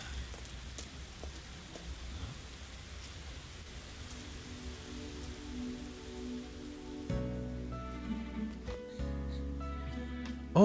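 Steady rain patters in the video game Persona 5, a constant wash of falling water that continues as game music and tones come in partway through, with no talking.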